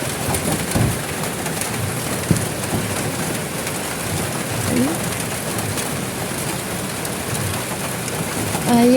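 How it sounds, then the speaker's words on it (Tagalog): Steady rain patters and hisses on a roof throughout, with occasional bird coos and chirps breaking through the wash of noise. "Naulan na. Umulan na guys."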